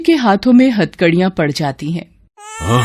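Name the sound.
baby crying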